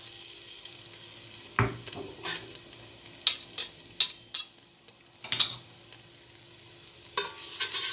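Seasoning stir-fried in a little oil in a pan, with a soft steady sizzle broken by several sharp clinks and scrapes of a utensil against the pan, close up and without speech.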